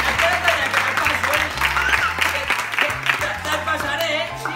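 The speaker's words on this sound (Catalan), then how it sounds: "Un aplaudiment!" An audience at a magic evening bursts into applause after a trick works. The clapping runs dense for several seconds, with a strong voice talking and calling out over it.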